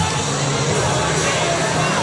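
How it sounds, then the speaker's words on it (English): Crowd at a minor league game grumbling in a dense, steady roar of many voices after a disputed call, with no single voice standing out. "You can hear the crowd's reaction."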